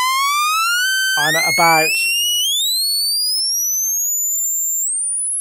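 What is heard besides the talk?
Studio Electronics Boomstar synth sawtooth oscillator sweeping up in pitch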